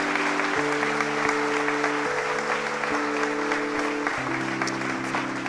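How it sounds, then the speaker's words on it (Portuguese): A church congregation applauds in a steady wash of clapping while music plays underneath with held chords. "você pode dar uma salva de palmas para Jesus"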